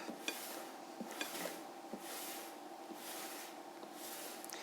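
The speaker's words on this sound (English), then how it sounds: "now we just want to blend, turning the bowl and mixing it up" Strawberry pudding being mixed in a bowl: soft, repeated scraping and swishing strokes with faint clinks of the utensil, quiet and close, with no talking.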